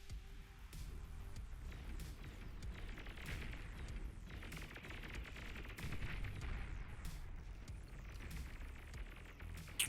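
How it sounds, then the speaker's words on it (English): Metal extractor blowing up in the strategy video game Beyond All Reason, with a dense, continuous roar of battle explosions and gunfire-like bursts layered throughout, loud and steady without speech. "metal extractor explodes."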